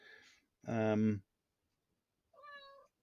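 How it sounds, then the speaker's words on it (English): A cat meows twice: a loud, drawn-out meow followed after a pause by a shorter, softer one, with a faint sound at the start. "Well, my cat has joined me."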